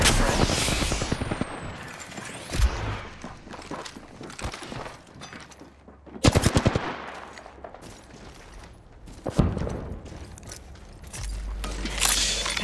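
Gunfire and impacts in a PUBS video game battle, coming as bursts of cracking shots and shattering hits, loudest around the middle and near the end, over a continuous busy game soundscape.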